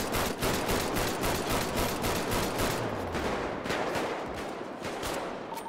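Dense, sustained automatic gunfire in a GTA NoPixel roleplay shootout at a gas station rattles continuously at close range, rapid bursts overlapping with no pauses throughout.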